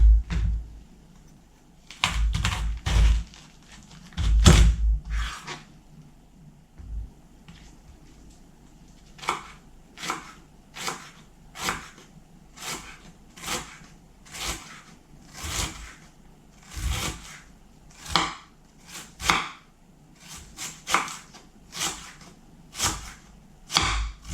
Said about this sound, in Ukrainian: Для початку нашинкуємо капусту.